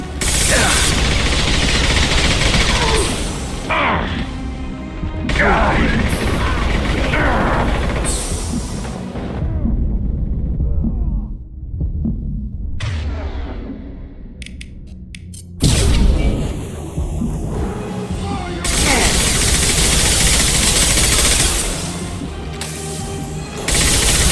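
Heavy gunfire in Mass Effect 2 during a firefight, with dense bursts of automatic fire and impacts that run loud through most of the stretch, easing in the middle before another sharp blast and renewed shooting.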